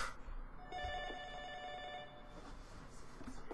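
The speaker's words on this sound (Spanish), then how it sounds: "que están llamando al teléfono, ¿no lo escuchas?" A telephone rings in the horror video game Ju-On, a steady electronic bell tone running through most of the short stretch over low background noise, with no talk.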